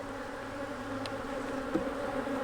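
Honey bees droning in a dense, continuous hum around an open hive during a split inspection, heard close and steady, with occasional individual bees passing briefly nearer.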